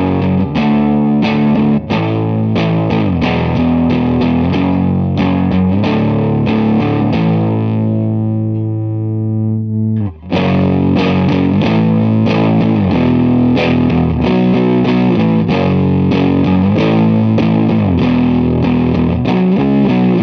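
Heavily fuzzed electric guitar chords played through a Landfarm No Masters Fuzz pedal ring out loud and saturated, strummed in a driving rhythm with a brief pause midway before resuming.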